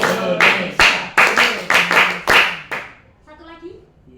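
A school class clapping hands together in a rhythmic pattern, about eight sharp, loud group claps in a steady beat, followed by voices calling out in unison as the clapping stops.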